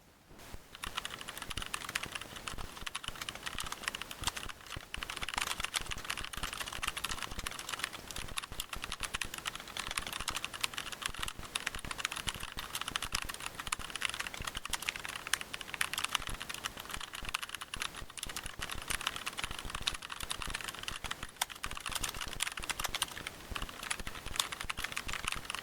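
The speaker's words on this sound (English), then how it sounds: "And now I will type the prompt into the prompt box." Steady, continuous typing on a computer keyboard as a prompt is entered, close and clear with rapid overlapping key clicks for about 25 seconds and no talking.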